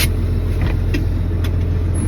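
A 1996 Ford F800 knuckle boom crane truck with a 5.9 Cummins diesel rumbles loudly and steadily from close by as it pulls away, heard from inside the cab.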